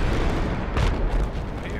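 TOW missile explosion in the Project Reality military shooter, a short, heavy boom with a rumbling low-end body, heard as one brief burst under ongoing background noise.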